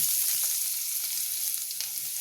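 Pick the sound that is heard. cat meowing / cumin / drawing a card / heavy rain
cumin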